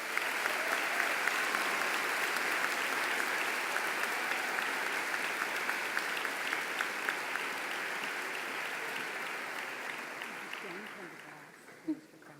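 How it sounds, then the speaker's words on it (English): A large crowd at a 2017 high school commencement gives honored guests a long, steady round of applause that slowly fades out near the end. "Let's give all of our honored guests a round of applause."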